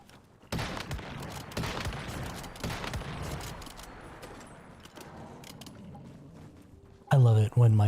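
Rapid bursts of gunfire from a weapon in the video game Once Human, dense and loud at first, then thinning into steadier shots before a voice breaks in at the end.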